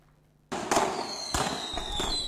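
Fireworks going off on bonfire night along a street, with sharp bangs and crackling bursts after a sudden start, loud and close with a few distinct pops over a sustained hiss.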